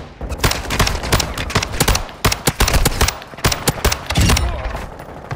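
Rapid gunfire bursts and single shots crack loudly and nearly continuously through a video game firefight in Building 21, with dense overlapping volleys and brief gaps.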